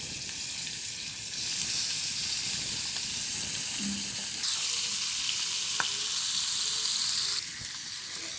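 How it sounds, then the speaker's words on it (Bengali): Sarputi fish fries in oil in a kadai, a steady close sizzle that swells louder after the first second and softens near the end, with a brief clink of utensils and no talking. "এখন মাছটা ভেজে নেব।"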